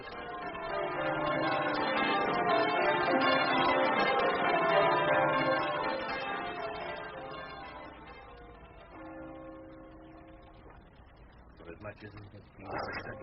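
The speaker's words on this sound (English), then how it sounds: "Dreadful bell, be silent." A church bell tolls in a radio drama, its strokes swelling into a loud, ringing, reverberant wash that slowly fades as someone speaks over the tail.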